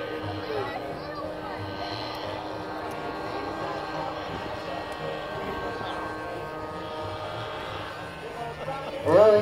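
An Italian radio-controlled model bomber plane throttling up for takeoff on the ground, its engine giving a steady buzzing drone with a brief louder surge at the end, with talk over it.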